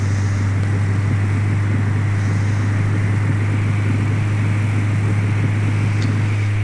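A flight simulator aircraft runs at full throttle just after touchdown with a constant, loud engine drone, a strong low hum and a steady hiss throughout. There are no voices.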